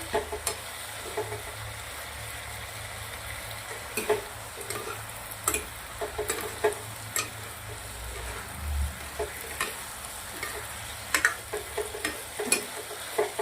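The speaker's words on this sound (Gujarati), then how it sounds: "મંચુરિયન રેડી છે નાખી દઈશું રસ મિક્સ કરી દઈશું" Green corn manchurian balls being stirred into sauce in a hot pan, with a steady sizzle and frying hiss broken by repeated sharp clicks and scrapes of a spoon against the pan, no voices.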